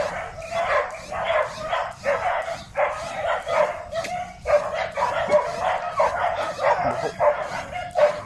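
Several dogs bark and yip repeatedly in quick, overlapping bursts, fairly close and loud, with a whimpering edge at times.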